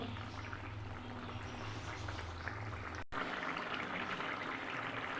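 A vegetarian curry simmers on the stove, a faint, steady bubbling and gentle hiss that continues through a brief dropout, with no voices.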